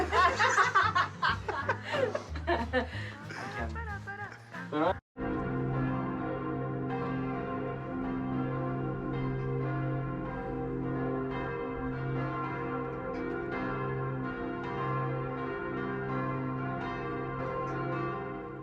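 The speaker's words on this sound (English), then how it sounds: "we were welcomed by the good morning bells of Dinant Church" Church bells of Dinant, Belgium ring continuously and steadily after a few seconds of talk and laughter, their tones overlapping in a sustained peal.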